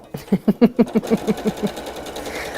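A sewing machine doing top stitching, running in a quick rhythmic burst of about a dozen evenly spaced thumps that slows and fades out, close and fairly loud, no voices over it.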